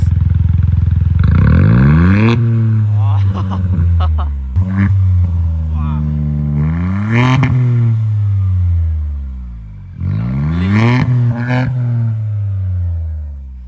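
A Hyundai i20 N Line with a Stage 1 tune revs with its exhaust valve closed, giving several loud, close engine blips that rise and fall between spells of idle.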